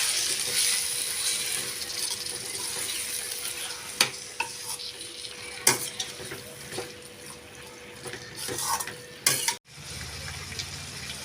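Spinach and potato masala stirred in a frying pan, a continuous sizzle under scattered scraping clicks of a spoon against the pan, close and moderately loud, ending abruptly.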